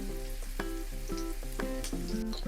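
Red chili powder and crushed chili sizzle in hot oil as a tempering for Punjabi kadhi pakora, making a continuous crackle with scattered pops and tonal clinks, and no voices are heard.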